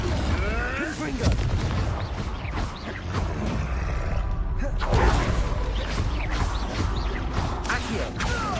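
Confringo fire-blast spells exploding in the video game Hogwarts Legacy, heavy booming blasts and crashing impacts layered with combat effects and grunts, loud and continuous.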